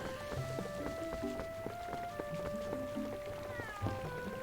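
A cat meows a few times in The Legend of Zelda: Twilight Princess HD, set against game ambience with patters like light rain and steady tonal music.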